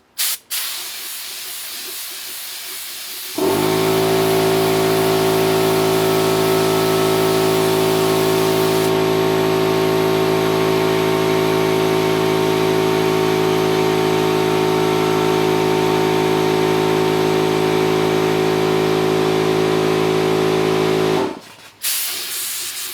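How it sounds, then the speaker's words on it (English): A spray gun sprays glaze onto a wheel-thrown ceramic fermenting crock, hissing steadily for nearly twenty seconds with a compressor-like hum beneath it, starting and stopping abruptly. "as always when you're spraying, thin layers, and then add another one"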